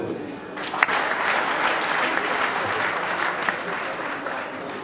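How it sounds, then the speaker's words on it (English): Audience at a 2019 Imo governorship election debate breaks into steady applause for the candidates, a dense wash of clapping lasting several seconds with a faint voice over it. "Ladies and gentlemen, can you please give them a round of applause?"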